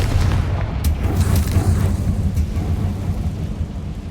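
A Confringo fire spell erupts into a heavy, rumbling boom in Hogwarts Legacy, a deep, sustained roar that stays loud for about four seconds with crackling bursts near the start.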